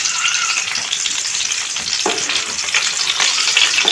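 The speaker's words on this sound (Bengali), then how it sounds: "আস্তে আস্তে করে ভাজা হচ্ছে" Steady, dense sizzling of spice-coated eggs frying slowly in a pan, with occasional soft scraping stirs, close and continuous throughout.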